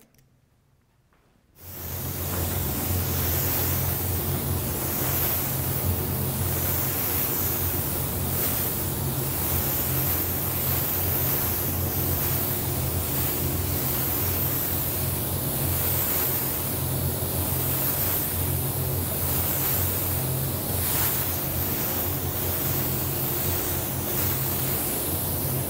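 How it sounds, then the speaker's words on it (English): Spray gun blasting blue paint onto a scuffed miniature car hood, a steady loud hiss that starts after a brief quiet moment and runs unbroken to the end. "So I'm going to grab the gun and blast some blue on that."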